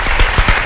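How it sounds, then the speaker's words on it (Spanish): Applause from a studio audience on a Spanish talk show, a dense wash of clapping with a few louder swells, heard alone and close. "pues un aplauso, por favor"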